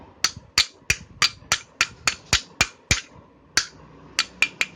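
A bearing is hammered into an exhaust fan motor: about fifteen sharp, ringing metal strikes, close and loud, in a mostly steady rhythm with one brief pause, and no talking.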